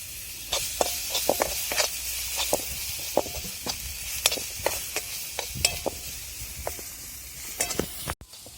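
Masala and chopped tomatoes are stirred in a hot pan, with repeated sharp spatula scrapes and taps over a soft, continuous sizzle, close and fairly loud.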